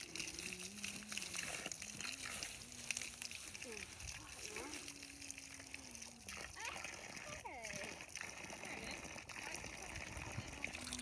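Water poured from a container into a freshly dug planting hole for an apple tree, giving quiet, ongoing splashing and gushing, with children's and adults' voices talking over it.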